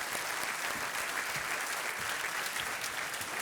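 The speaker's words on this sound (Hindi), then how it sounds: "तालियों के साथ इनका एक बार स्वागत किया जाए।" Studio audience applause on the Indian quiz show Kaun Banega Crorepati, a dense, steady wash of clapping that stays loud and even throughout with no pauses.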